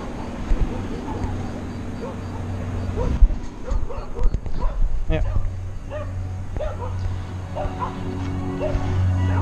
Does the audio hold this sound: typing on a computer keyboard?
no